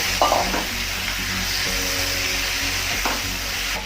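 Rohu fish head sautéed in a spice paste, a loud, close, steady sizzle with occasional scraping stirs of a spoon in the pan, without speech.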